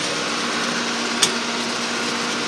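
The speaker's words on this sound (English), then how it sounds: "Got the baler behind me, cranking away." A round baler runs off a tractor PTO at about 2,000 RPM, making a steady mechanical drone and whir. One brief click or clank stands out midway.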